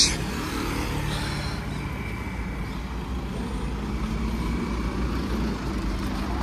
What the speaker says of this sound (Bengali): গাড়ি এসে গেছে